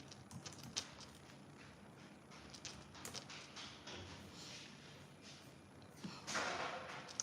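A computer keyboard clicks with quick, uneven bursts of typing, faint and close, with scattered louder key strikes.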